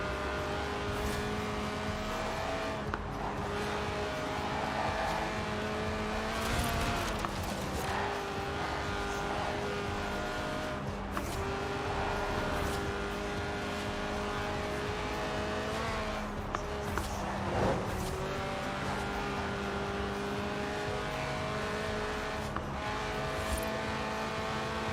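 A Lotus sports car in Forza Horizon 4 with a 1.8-litre, 190-horsepower engine that revs to 8,000 RPM screams through a continuous run of high revs, gear changes and tyre squeal, loud and unbroken the whole way.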